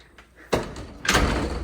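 A screened front door on a house porch clatters shut twice in quick succession, each a sharp close-up bang with a brief rattle after it.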